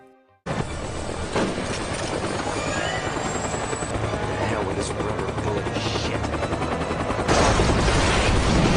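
A helicopter in an action film scene, its rotor whir and turbine drone loud and constant, with gunfire and sharp impacts layered over it and a swell near the end.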